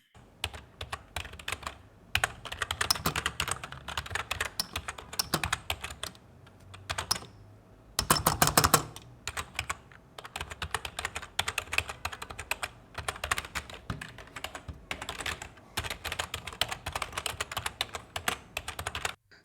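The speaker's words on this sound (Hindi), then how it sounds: "जो की स्टॉक साउंड है वो भी काफ़ी अच्छा है" Rapid keystrokes on an EvoFox Warhammer budget gaming keyboard with stock switches clatter up close in dense, uneven bursts, with brief pauses and a louder flurry partway through, and no voices.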